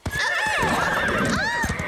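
A cartoon horse whinnies loudly and close, a long wavering neigh lasting nearly two seconds, with faint hoof clatter beneath, from the animated series Horseland.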